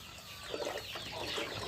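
Farm chickens cluck softly and steadily in the background, a dense chorus of short calls with no talk over them.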